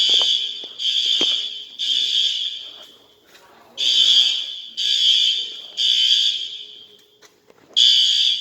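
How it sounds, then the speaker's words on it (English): A System Sensor SpectrAlert Advanced horn strobe fire alarm blares in loud, harsh repeated blasts, about seven bursts with brief pauses and one longer gap, heard close up. "That's a system sensor spectral advanced horn strobe."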